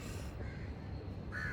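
A crow caws twice, short raspy calls heard moderately close over a steady low background hum, with no voices.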